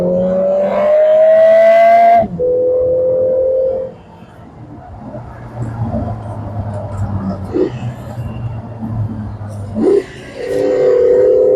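A turbocharged Lotus Emira in sport mode with manual gear control gives a loud, climbing engine note that cuts sharply at a gear change. It drops to a quieter, rumbling cruise, then rises again into another hard, revving pull.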